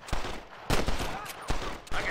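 Gunfire in the video game Red Dead Redemption, four sharp shots spaced irregularly over a couple of seconds, moderately loud with a faint backdrop between them.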